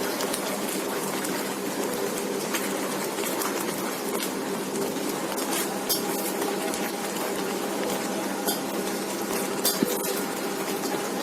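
A spoon mixes bread sandwich filling in a bowl, with faint scattered clinks of metal against the bowl over a constant, dense background noise.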